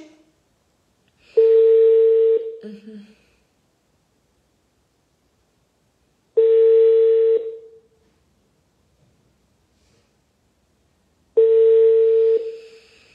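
A telephone rings back on an outgoing call: three steady, even ring tones about a second long, spaced roughly five seconds apart, with silence between and no talking.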